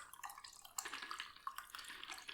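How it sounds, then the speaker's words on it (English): Green apple martini poured from a shaker into two stemless martini glasses, a quick run of bright close splashes and drips, loud and alone. "we're going to pour half of this into one side and half of it into the other"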